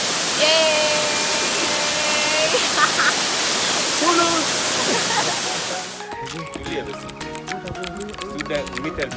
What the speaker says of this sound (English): it's my first time to the waterfalls, Marangu waterfalls to be specific